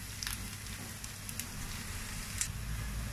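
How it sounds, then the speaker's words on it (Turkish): Onions frying in vegetable oil in a pan for a green bean and egg sauté, giving a steady soft sizzle and crackle with occasional small pops, fairly quiet and with no one talking. "önce sıvı yağ ile soğanlarımızı kavuralım"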